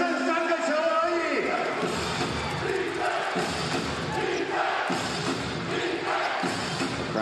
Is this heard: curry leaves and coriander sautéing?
no